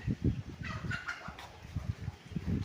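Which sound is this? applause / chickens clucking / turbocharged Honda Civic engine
chickens clucking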